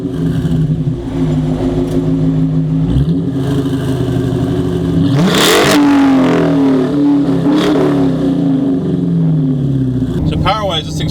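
A 2016 Dodge Challenger R/T with the 5.7 engine rumbles through its catback exhaust, a deep steady growl that swells into a rev midway, loud and close, with a voice talking over it.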